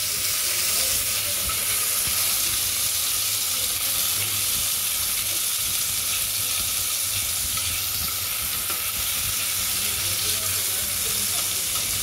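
Chopped tomatoes fry for mung dal in a pan, giving a loud, continuous close sizzle with faint scraping as they are stirred.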